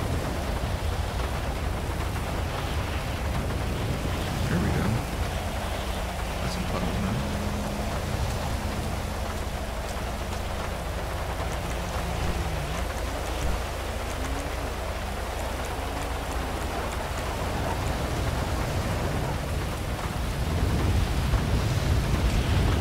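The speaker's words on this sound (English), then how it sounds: "Let's go full on rain." Steady heavy rain roars throughout in a GTA V police-patrol game session with graphics mods, a dense constant hiss with no distinct thunderclap standing out.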